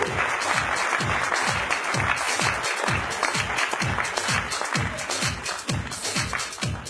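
Audience at a Bombay Industries Association event claps loudly and steadily, with dense, rapid hand claps filling the room for the whole stretch without letup.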